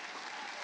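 Audience applause, a steady wash of many hands clapping with no breaks, fairly faint and heard only briefly.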